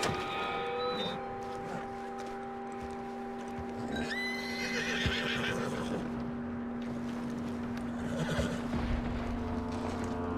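Horse in a video game whinnies loudly, with hooves clip-clopping and rustling movement around it, close and clear against a steady background hum.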